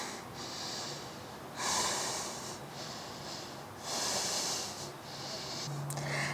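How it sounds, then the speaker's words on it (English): Slow, audible nasal breathing during yoga, with long drawn inhales and exhales alternating in a calm rhythm, close and clear. "breathing in and out through the nose"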